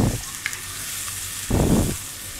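Food frying in a pan while being stirred during traditional home cooking, with a steady sizzle and two short bursts of louder scraping and stirring; no one talks.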